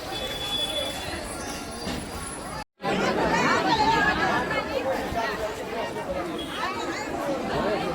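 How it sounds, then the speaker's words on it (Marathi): Dense crowd of pilgrims at the Dwarka temple, a continuous babble of many overlapping voices close around, with a short gap before the chatter swells again. "गाईज आजची गर्दी बघा फक्त."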